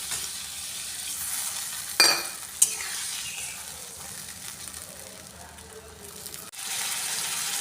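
Water poured into a pan of frying pointed gourd, a sudden splash and burst of hiss followed by a steady sizzle and light stirring, with a clank near the end.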